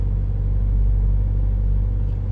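A truck engine rumbles steadily from inside the cab while driving, a constant low drone with no other sounds on top.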